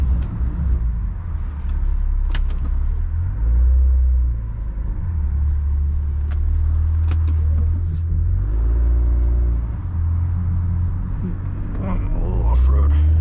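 A 2020 BMW M340i xDrive rolls along curvy back roads, its engine a steady low rumble with swells as it accelerates, heard from inside the cabin with someone talking over it.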